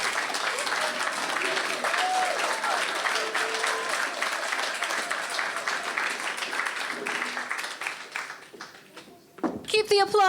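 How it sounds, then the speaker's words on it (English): A conference audience applauds a spoken-word performer with dense, steady clapping that fades after about nine seconds, followed by a voice speaking over the last bit. "Keep the applause rolling for Cylon."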